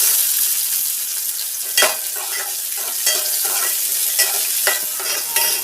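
Green chillies and onion frying in a pan give a loud, bright, close sizzle, punctuated by several scraping stirs of a spatula at irregular intervals, with no talking.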